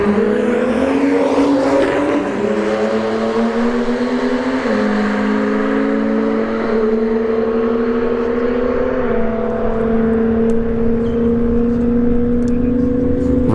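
Drag racing cars at a street heat event accelerate hard down the strip, a loud continuous engine roar with stepped pitch rises as gears shift, close and sustained for the whole stretch.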